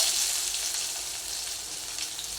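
Mustard seeds, chana dal and onion sizzle steadily in hot oil for a broadbeans poriyal, a dense, even crackle that stays close and fairly loud throughout with no voices.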